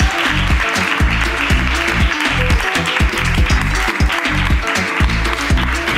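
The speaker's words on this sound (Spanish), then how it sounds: "un aplauso para tu ruina" A studio audience applauds during a comedy talk show. Loud, continuous clapping is layered with a heavy repeating rhythmic pulse, likely music, and the sound stays full and steady throughout.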